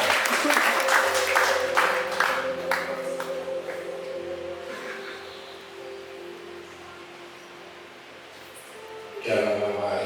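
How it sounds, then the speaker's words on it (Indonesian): A church congregation breaks into applause, loud at first and then thinning, while a sustained organ or keyboard chord drones beneath and fades; another burst of sound returns near the end. "Tepuk tangan yang meriah untuk dirinya."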